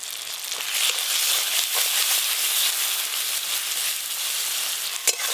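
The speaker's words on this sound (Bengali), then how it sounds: "সামান্য একটু জল দিয়ে এই পুরো মশলাটা ভালো করে কষিয়ে নেব" Onion, tomato and a ground paste of ginger, cumin and dried chilli, with salt and turmeric, sizzle and crackle steadily in a pan for a fish curry, a continuous close frying hiss with one brief louder pop near the end.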